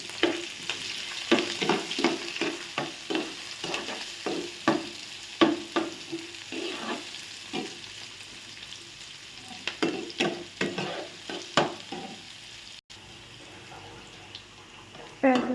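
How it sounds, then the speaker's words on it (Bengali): Onion and garlic frying in oil in a frying pan, stirred with rhythmic scraping strokes over a soft sizzle, close by and moderately quiet, with a brief pause near the end. "পেঁয়াজ রসুন ভাজা শেষ"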